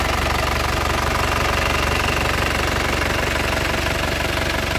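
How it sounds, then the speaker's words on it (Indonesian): The turbo diesel engine of a 2016 black Isuzu Panther LS Turbo runs close by at a steady idle, a continuous loud clattering knock with no pauses. "Ini kondisi mesinnya."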